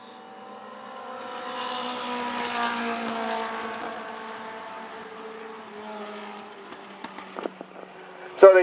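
Race cars circle a small speedway oval at Shangri-la 2 Speedway, their engines droning and swelling as the pack of three runs close together, heard at a distance with a few sharp clicks near the end.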